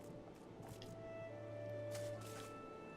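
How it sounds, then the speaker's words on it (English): A character splashes down into water in Final Fantasy XIV, a brief soft squishy splash followed by steady background game ambience and a faint tonal hum. "Oh, whoops. I landed in the water there."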